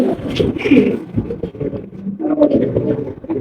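Pigeons coo in a cage just after being moved to a new cage, with repeated low throaty coos and rustling close by, while a voice speaks briefly underneath.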